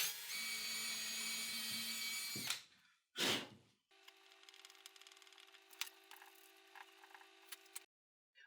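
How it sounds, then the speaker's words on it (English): Power drill boring into wood while building a 3D-printed 737 aft overhead panel, a close whirring motor burst, a brief pause, then another longer steady drilling run that cuts off abruptly. "Just want to drill this side again because that's going to drill into the wood."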